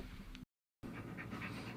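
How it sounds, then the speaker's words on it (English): A big dog panting heavily up close, steady rhythmic breaths that cut out briefly and then resume, quiet with no talking. "You can probably hear my big dog just breathing really heavy right now."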